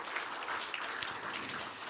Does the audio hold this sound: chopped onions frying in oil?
no